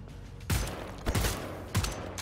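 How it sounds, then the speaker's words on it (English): Marksman rifle gunfire in the video game Wolfenstein: The New Order: three loud, sharp shots spaced roughly half a second apart, each booming briefly over a steady background. "Marksman rifle is dirty."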